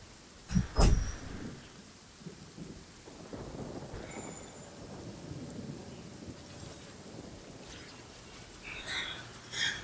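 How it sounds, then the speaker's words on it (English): Rain falls outside during a thunderstorm, a steady hiss of raindrops on surfaces with a loud close thunder crack near the start and softer rumbles and knocks later. "Can you hear that rain sound outside?"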